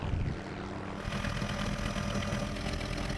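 A Greenpeace reconnaissance helicopter flies far offshore over the sea, its engine and rotors making a steady, dense drone that holds for several seconds without a break.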